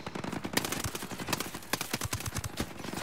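Gunfire in the Ghost Recon Breakpoint mountain siege, a string of sharp single and rapid shots at uneven intervals, fairly close and punchy against a busy game background.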